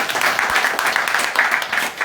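An audience at an official ceremony applauds to welcome a minister and the teams, with steady, rippling clapping and a murmur of voices running underneath.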